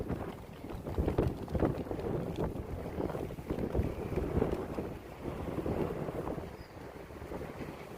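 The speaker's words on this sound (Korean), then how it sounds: "바람이 너무 많이" Strong wind buffeting the microphone outdoors at a winter concert event, a heavy continuous low rumble with gusting swells throughout, no clear talk.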